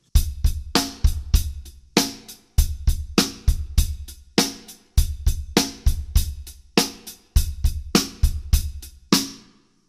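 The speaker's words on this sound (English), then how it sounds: "So if I play that funky music with rim shots, it sounds like this." A funky drum kit groove with rim shots on the snare plays steadily for about ten seconds, with punchy kick and sharp rim cracks in a repeating syncopated pattern, loud and close, with no talking.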